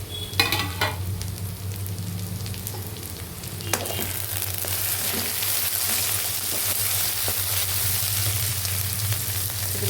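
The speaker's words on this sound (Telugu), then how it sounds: "ఇప్పుడు దొండకాయలు వేసేస్తున్నా." Ivy gourd (dondakaya) pieces dropped into frying onions, a few clattering knocks at the start giving way to a continuous, fairly loud sizzle with occasional stirring scrapes, close up and without speech.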